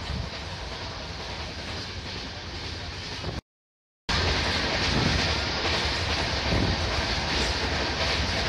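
An overnight passenger train heading toward Surat rumbles steadily with a broad roar and faint rhythmic clatter, heard from inside the carriage, briefly cut to silence before the same loud running noise resumes.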